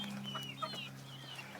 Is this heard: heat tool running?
no